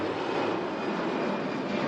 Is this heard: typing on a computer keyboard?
no